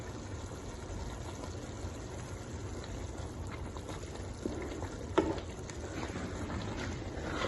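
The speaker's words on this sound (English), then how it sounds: "Cover the pot and let the egusi cook properly." Egusi soup with smoked turkey simmers in a covered pot, giving a faint, steady bubbling crackle with one brief louder pop partway through.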